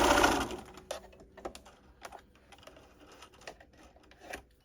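A sewing machine backstitches to reinforce a strap for a tie on a summer sewing project, giving short bursts of rapid mechanical stitching with a louder start and quieter intermittent runs, close by, with no talk.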